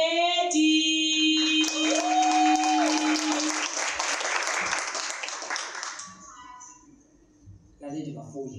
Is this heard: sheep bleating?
no